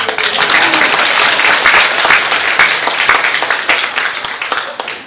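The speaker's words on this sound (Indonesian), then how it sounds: "Tepuk tangan dong." A crowd at a retirement celebration for a professor applauds continuously, with dense, even clapping filling the whole stretch at close range.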